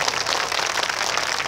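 Dense, steady applause from a large crowd at an Islamic sholawat gathering in Kauman, Karangrejo, Magetan, filling the space evenly as a continuous wash of clapping with no pauses.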